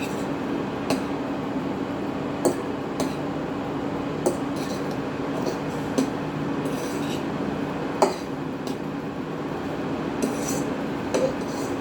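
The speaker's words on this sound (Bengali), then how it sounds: "ফর্কের সাহায্যে আমি ম্যাগির সাথে পুরো মশলাটা ভালো করে মিশিয়ে নেব।" A fork mixes cooked Maggi noodles with spices in a pot, making a steady background rustle punctuated by light metallic clinks and taps against the pan at irregular intervals, close and with no talk.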